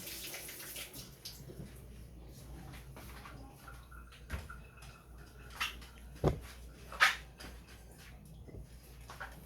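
Cutting tools being washed under running water, with a soft trickle and splashes, a few clinks and knocks of metal against the sink, fairly quiet and close.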